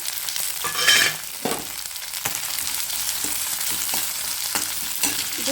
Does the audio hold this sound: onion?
yes